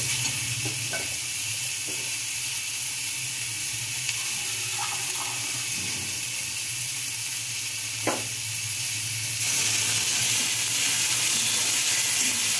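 Onion and tomato in a pan for sim bichi tarkari give off a steady, loud, hissing sizzle after water is added, with a few faint utensil clinks, close up and no talking.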